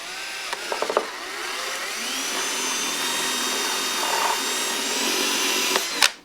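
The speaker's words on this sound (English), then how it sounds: "you'll drill through the bottom of the seat at a low position" A power drill with a 1/4 inch bit bores through the underside of a Crazy Cart seat during a hydraulic disc brake install, giving a steady, fairly loud whine that runs almost unbroken, with a few clicks near the start and a sharp stop at the end.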